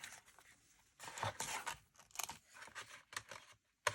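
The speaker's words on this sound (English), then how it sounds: "I'm going to cut myself another one." Scissors snip through paper to cut out a leaf shape for a floral greeting card, a series of close, crisp cuts and rustles in uneven bursts.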